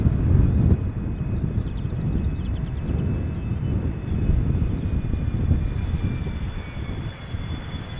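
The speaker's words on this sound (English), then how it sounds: "Coming this way is Emirates flight 145, arriving from Dubai, 777-300" An 8-year-old Emirates Boeing 777-300 on flight 145 from Dubai arrives at Schiphol Airport, its engines a broad, steady low rumble with wind buffeting the microphone, swelling slightly midway and easing toward the end.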